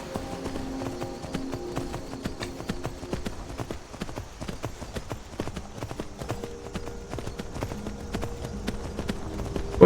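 Horse hooves clip-clop steadily in Skyrim, a quick even rhythm of close hoofbeats running through the whole stretch over a soft steady game background.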